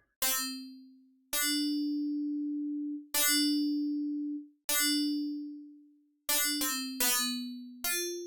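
A series of bright FM-synthesized tones ringing out, each sustaining and slowly decaying, then several quick strikes close together near the end, heard alone.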